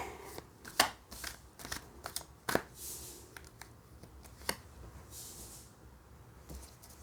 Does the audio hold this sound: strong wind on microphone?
no